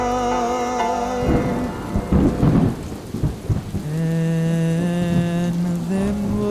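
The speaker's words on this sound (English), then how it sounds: "Soon it's gonna rain. I can feel it. I can hear it." Rain and thunder effect played during a stage musical scene: rumbling, crackling bursts build in the middle, set against sustained musical tones that hold before and after.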